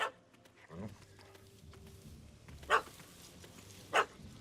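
A dog barks in The Witcher 3, two sharp distinct barks spaced about a second apart over a low ambient game backdrop, with a faint earlier yelp.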